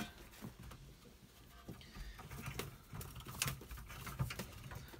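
Pigeons feeding inside a custom-built loft, with soft scattered pecking taps and faint wing and foot shuffles, plus occasional brief rustles, all fairly quiet and close with no voices.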